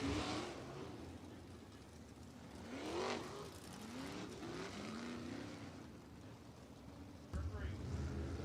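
A USAC midget race car engine drones and rises in pitch as it rounds a turn at Tri-State Speedway, mid-distance and under track ambience, with the whine swelling and fading across the stretch.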